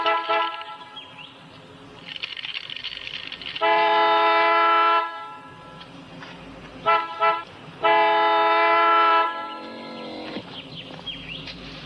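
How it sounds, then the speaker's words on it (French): A car horn blares in long sustained honks, held for a second or more at a time with short gaps between, loud and close over background street noise. "Ça ne sert à rien de garder la main sur le klaxon."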